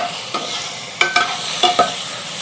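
Onion and tomato sizzle in a hot pan while a utensil stirs and scrapes, with several sharp clinks against the pan in an uneven rhythm.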